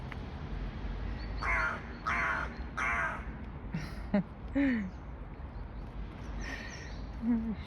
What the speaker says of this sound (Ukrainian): Точно ворона.